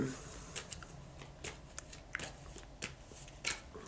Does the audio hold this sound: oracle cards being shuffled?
yes